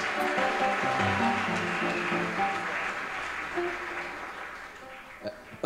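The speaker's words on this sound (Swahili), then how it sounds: "kamiti ya hapa tuipigie makofi" A church congregation clapping in a CFF gathering, a dense burst of applause that gradually fades, with a voice faintly present beneath and a sharp knock near the end.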